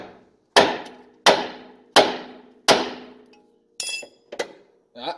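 Four loud, evenly spaced metallic hammer blows ring out up close on car brake parts, each decaying quickly, followed by a few lighter clanks and rattles.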